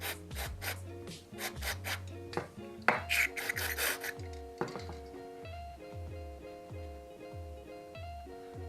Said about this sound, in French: Hop, un petit coup de brosse magique.